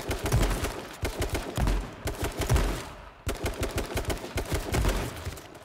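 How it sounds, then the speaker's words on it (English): Rapid bursts of automatic gunfire in an online shooter video game, loud and close, coming in repeated volleys with brief gaps between them and no talk over the shots. "Why were you shooting me?"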